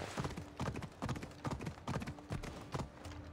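Horse hooves clip-clop at a steady walking rhythm in Assassin's Creed Odyssey, a regular series of close, distinct hoofbeats played fairly quietly with no talking over them.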